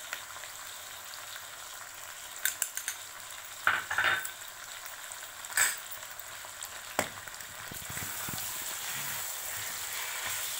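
Green chilies and turmeric sizzling with potatoes in a pan, a steady crackling fry with several sharp stirring clatters of the utensil against the pan scattered through the clip.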